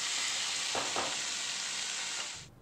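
Ridge gourd with sesame being stirred in a frying pan, a dense steady sizzle with a couple of soft scraping strokes, close by, cutting off abruptly at the end.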